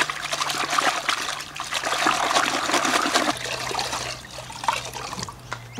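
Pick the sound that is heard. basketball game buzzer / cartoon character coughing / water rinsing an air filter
water rinsing an air filter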